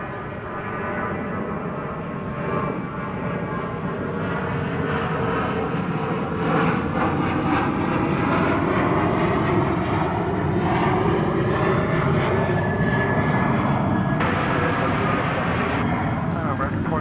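A jet airliner, an American flight bound for Reno, roars past at night at DFW Airport. Its broad engine rumble swells and holds loud and steady, with faint voices underneath.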